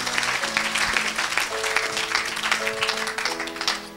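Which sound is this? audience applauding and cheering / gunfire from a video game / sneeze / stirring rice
audience applauding and cheering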